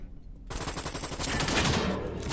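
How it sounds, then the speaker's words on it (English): Sustained rapid gunfire in the Resident Evil 6 video game starts abruptly and rattles on steadily as a loud, dense burst. "Oh, she's being shot at."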